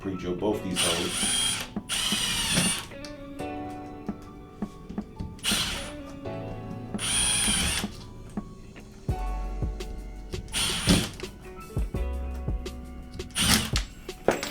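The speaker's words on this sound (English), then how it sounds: "I'm going to go ahead and pre-drill both these holes." A power drill whirs in several short bursts with pauses between, pre-drilling screw holes into metal for a floating shelf, alongside ratcheting mechanical clicks and tool handling nearby.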